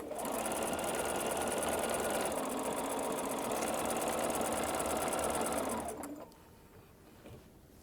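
Sewing machine stitching stretch fabric hums steadily at speed for about six seconds, a rapid close mechanical whir, before stopping abruptly into quiet handling sounds.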